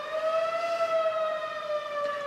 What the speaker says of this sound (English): It's just the warning siren.